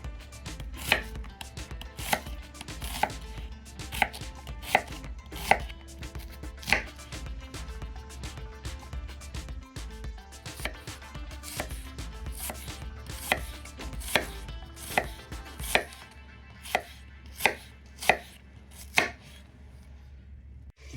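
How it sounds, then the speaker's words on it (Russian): A knife chops an onion into half-rings on a cutting board, sharp repeated taps in an irregular rhythm over a low steady hum, close by. "Пока тушится мясо, нарезаю лук репчатый."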